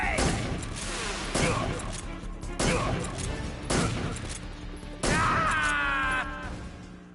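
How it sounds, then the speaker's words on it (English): Gunfire and explosions from the Metal Gear Solid 3 video game, several sharp loud bursts spaced a second or so apart, the last followed by a ringing metallic tail, with a voice speaking between them. "Grenade!"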